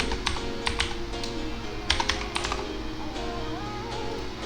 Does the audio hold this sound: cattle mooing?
no